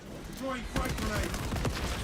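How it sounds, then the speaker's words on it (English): A frag grenade thrown in the video game Space Marine goes off amid a cluster of game gunfire and booms, with voices talking throughout and several sharp explosive hits in the second half. "Throwing frag grenade."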